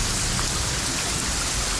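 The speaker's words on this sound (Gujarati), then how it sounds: "આજે મહેસાણા સહિત ઉત્તર ગુજરાતના કેટલાક વિસ્તારમાં ધોધમાર વરસાદ વરસી રહ્યો છે" Heavy pre-monsoon downpour in Mehsana, north Gujarat, a dense, steady hiss of rain falling hard on surfaces, loud and continuous without a break.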